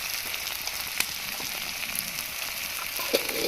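Duck meat frying with onion and spices in hot oil, a steady close sizzle with scattered crackles and pops and no one talking.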